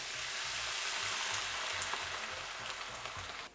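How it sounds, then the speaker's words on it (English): White wine poured into a hot pan to deglaze it after cooking squash and vegetables, giving an even, steady hiss and bubbling sizzle up close, with no talking. "And then I'll deglaze the pan with white wine."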